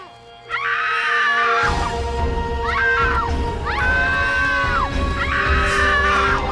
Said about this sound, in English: The woman then sees the monster and screams with that like that stock kind of female version of the Wilhelm scream.